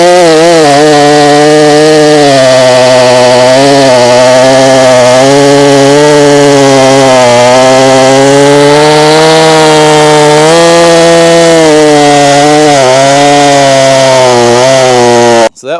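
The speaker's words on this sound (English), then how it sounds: "see if we can get a wood cut with it" A Stihl MS362 C chainsaw engine roars steadily while cutting wood, its pitch rising and dipping with the load, loud and close throughout before cutting off at the end.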